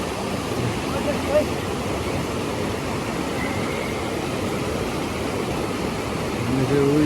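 River water runs in a continuous, even rushing wash, close and unbroken, with a faint tonal sound near the end.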